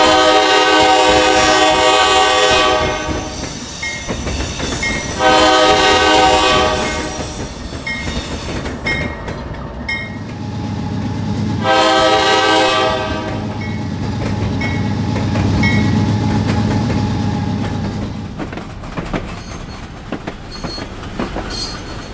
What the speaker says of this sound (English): the bell triggering automatically whenever you blast the horn